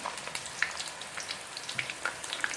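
Onion paste crackling in hot ghee in a pan for mutton karahi, a soft steady sizzle with small scattered pops, fairly quiet and with no voices.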